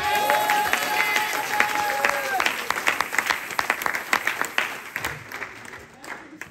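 Church congregation applauding during a Pentecost service, dense steady clapping from a large crowd with scattered cheers, loud and sustained, thinning into separate claps toward the end while a voice talks over it.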